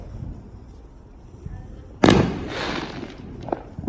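Loud firework bangers going off outdoors during a Fourth of July backyard display, with a sharp blast followed by crackling burst and noise, over faint background chatter.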